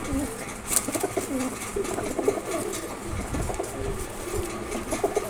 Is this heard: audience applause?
no